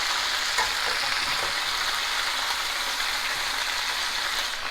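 Chicken pieces frying in a pan for braised chicken with cabbage and bacon, a steady, dense sizzle that stays loud and even throughout with no voices.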